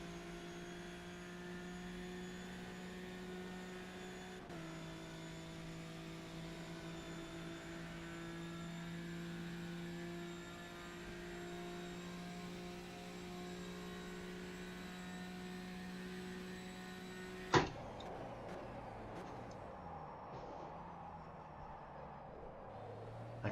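A race car engine in a sim racing game holds a steady, droning tone, shifting pitch once early, then a sharp click and a change to a rougher, revving sound near the end; no talk.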